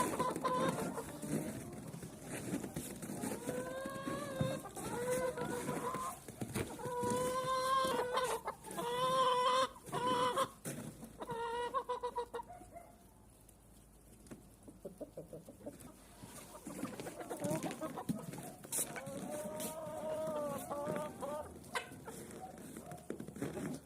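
Several laying hens cluck and warble in a steady, busy stream, with a short quieter gap midway before the clucking picks up again nearby; some of the birds are sick.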